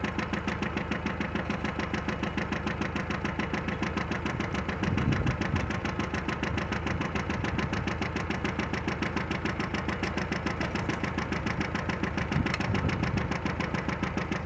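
A John Deere 650 garden tractor engine runs with a steady, rapid chugging beat while pulling a scrap-built middle buster plow, briefly labouring and roughening as the plow digs in.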